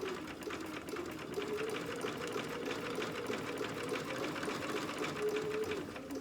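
A sewing machine stitches with black thread while making a dog outfit, running steadily and close by for the whole clip with a constant whirring, rapid needle rhythm and no talking.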